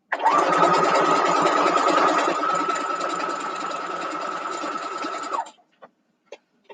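A sewing machine stitching a quilt block runs in one steady, close, loud burst of rapid mechanical whirring for about five seconds, then stops, followed by a few faint clicks with no talk.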